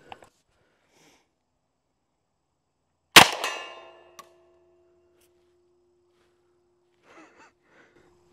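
A single sharp gunshot from an M1 Thompson submachine gun at a range, loud and sudden, followed by a brief ringing echo and a faint metallic clink, with soft voices before and after.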